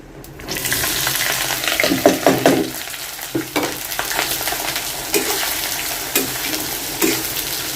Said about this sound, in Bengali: পেঁয়াজ আর কাঁচামরিচটা আমি এখন ভালো করে ভেজে